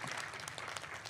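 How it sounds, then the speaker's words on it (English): A brief, faint patter of applause rises at a county board of supervisors meeting, soft and distant in the room. "So a round of applause for"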